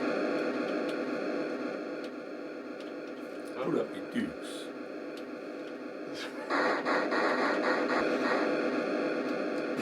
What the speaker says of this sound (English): The crowd noise is immense. It's like an aircraft taking off